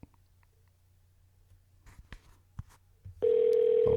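A phone call to a Guitar Center music store rings out: a steady, loud electronic ringback tone cuts in after a few quiet seconds of faint clicks and handling, then holds on.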